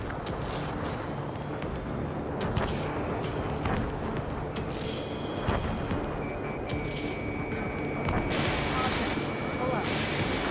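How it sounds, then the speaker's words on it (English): Gunfire and jet roar in the air-combat game Ace Combat 7 fill a dense, steady wash of engine noise and rumbling bursts throughout, with scattered sharp cracks and a rising whine partway through, with no talk. "Gunfire and the roar of jets echoing through the streets"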